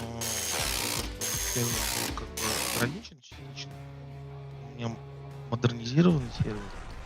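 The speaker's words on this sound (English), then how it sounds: "tighten the bolts up at the bottom, and the top mount bolts as well" A ratchet or power tool tightening the bottom and top mount bolts on a car damper, heard as bursts of fast mechanical clicking and whirring, close up, with someone talking over part of it.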